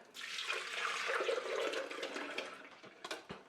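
Citrus Prosecco sorbet liquid pours steadily into an ice cream maker with a soft rushing, splashing sound up close, tapering into a few drips and small splashes at the end.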